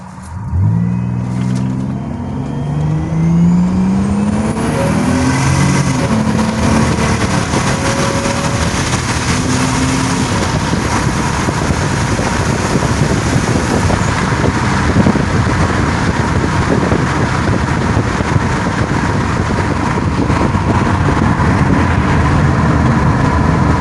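Turbocharged 1999 Buick Regal making a drag pass on street tires, engine loud and close as it revs up through rising tones, then roars steadily under hard acceleration.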